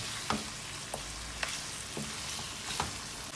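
Chicken karahi is sautéed in a pan, a quiet continuous sizzle broken by regular scraping stirs of a spatula roughly every half second to second, close and alone.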